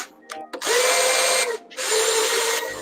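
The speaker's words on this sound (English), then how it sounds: "I use my old rigid drill to lower and raise it." A Ridgid power drill whirs loudly in two bursts separated by a brief pause, raising a router table lift, with a short click and stutter before the first run.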